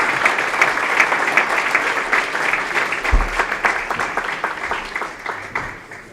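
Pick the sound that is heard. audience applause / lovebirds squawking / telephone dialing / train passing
audience applause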